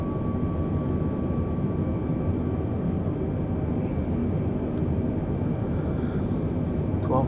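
Airbus A320 engines droning steadily during approach in Microsoft Flight Simulator amid a blizzard, a continuous loud rumble with a faint tone and brief voices near the end.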